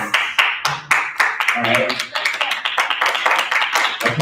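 Hands clapping in quick sharp bursts, several close loud claps repeating through the stretch, with a voice speaking briefly among them.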